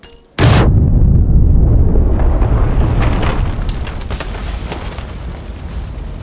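A grenade blows up in the video game PUBG Battlegrounds with a sudden loud, close boom. A long rumbling roar follows and slowly fades over several seconds, with no talking.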